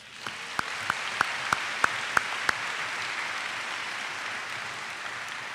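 An audience at an upper school awards ceremony claps for the students just named, steady applause with a few sharp, evenly spaced claps standing out near the front before the clapping settles into a softer wash.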